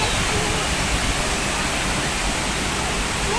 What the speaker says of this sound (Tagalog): Yan yung waterfalls.